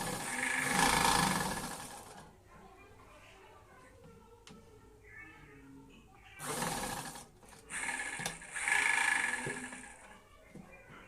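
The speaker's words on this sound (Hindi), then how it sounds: "इसमें भी हमें कच्ची सिलाई लगाना है।" A sewing machine runs a loose basting stitch through lined suit fabric in a few short bursts of whirring, with quieter handling of the cloth and a speaking voice between runs.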